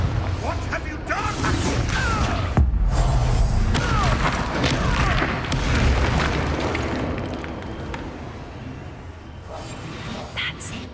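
A Confringo spell explodes in the video game Hogwarts Legacy, with booming bursts and crashes amid dense, busy game sound effects throughout.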